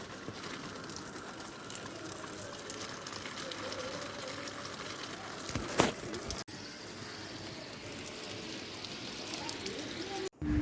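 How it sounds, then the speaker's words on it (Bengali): Steady rain hisses continuously across the clip, with a couple of brief sharper knocks near the end. "বৃষ্টি পড়েছে, এখানে ছাতা নিয়ে দাঁড়িয়ে পড়ো।"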